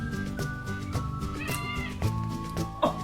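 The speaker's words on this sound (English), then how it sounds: "fattest cat in the whole world, aren't you?" A very fat cat meows several times in a row, clear and close, with drawn-out tonal calls and a sharper cry near the end; no one talks over it.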